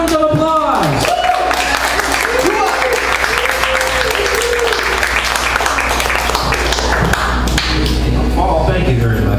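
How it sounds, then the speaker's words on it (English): Audience applause for poet Ken Jones at a poetry reading, loud, dense clapping that fills the room steadily, with a voice speaking over the start. "Let's all give Kent another round of applause."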